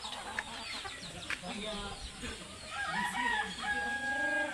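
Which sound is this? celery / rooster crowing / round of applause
rooster crowing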